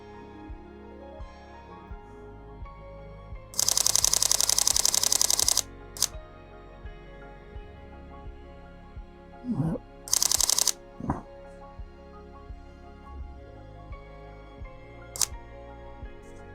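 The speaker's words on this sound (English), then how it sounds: "So I'm just going to fire a couple of shots" A Sony A6700 camera firing a burst of rapid shutter clicks for about two seconds, then a shorter burst and a few single shots, close and crisp over a quiet hum.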